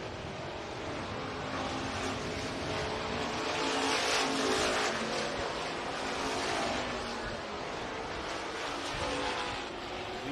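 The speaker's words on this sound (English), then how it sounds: "drivers going to start to turn and burn here around the somewhat freshly reworked racetrack" Stock cars roar around a freshly reworked dirt speedway at RPM Speedway in Hays, Kansas, a dense, sustained engine drone swelling and fading slightly as the pack passes, loud and continuous with no talk.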